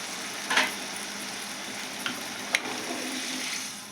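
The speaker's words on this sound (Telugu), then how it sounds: "కొద్దిగా వాటర్ ఇస్తున్నాను" A pan of bitter gourd curry simmers on high heat with a steady soft sizzle after a little water goes in, broken by a few sharp clinks and stirring scrapes, close by.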